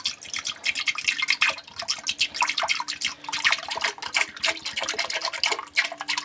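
Water trickles into a toilet bowl while the plumbing is being winterized, a close run of quick, bright drips and splashes in an uneven patter, with no voices.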